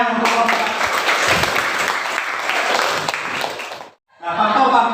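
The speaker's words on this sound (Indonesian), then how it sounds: "kita tepuk tangan dulu ya untuk kelompok." Classroom audience applauding a student group after a presentation, dense hand clapping for about four seconds before a brief pause, then clapping resumes, with voices mixed in underneath.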